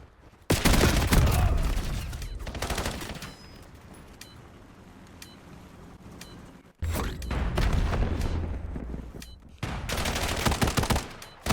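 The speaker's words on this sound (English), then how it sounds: "Pistol shots, oh my lord." Pistol shots in a competitive video game match, loud rapid bursts of gunfire with sharp cracks, a pause mid-clip, then more volleys close up without talk.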